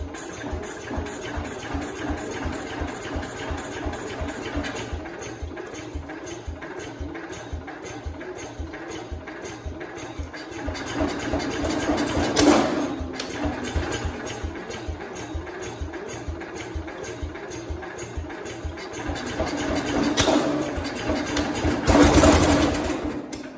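The single-cylinder engine of a 1969 Cub Cadet 105 garden tractor, freshly reassembled, chugs and idles with a fast, steady rhythmic putter up close, rising briefly twice as it is throttled.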